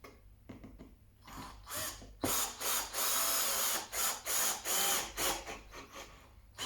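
A power driver drives screws into plywood without pilot holes, in a string of loud, close whirring bursts separated by short pauses, starting with a few lighter taps before longer sustained runs.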